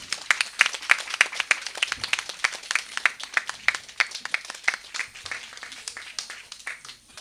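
An audience at a Navaratri festival function of the Sandeepani Sadhanalayam trust claps for a memento presentation. Steady, moderately loud applause from a crowd runs for several seconds in a hall.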